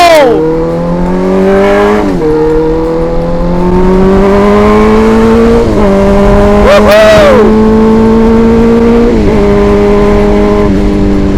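A motorcycle engine revs up and down repeatedly in rising whines, close and loud, with gear-change dips between pulls; a voice cheers briefly.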